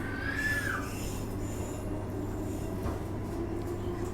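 A commuter train on the Perth line toward Joondalup and Clarkson rumbles steadily and low, with a brief metallic squeal near the start, heard continuously without talking.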